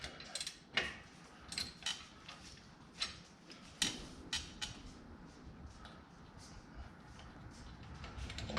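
A ratchet fitted with a standard 1/2-inch socket clicks in short, uneven bursts while loosening bolts on a trailer hub near a leaf spring, close and fairly quiet, with metallic taps between.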